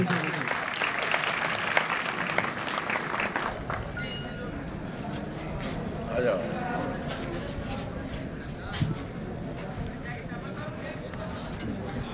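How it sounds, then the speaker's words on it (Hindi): An audience at a traffic awareness campaign event claps for an NCC cadet coming up to speak. The applause is dense and strongest at first, then thins into scattered claps with crowd murmur and a few voices. "सृष्टि सिंह के लिए जोरदार तालियों से स्वागत है।"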